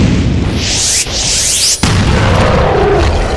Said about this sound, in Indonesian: Kombinasi pukulan, cakaran, dan ledakan terus menghantam tubuh Abigail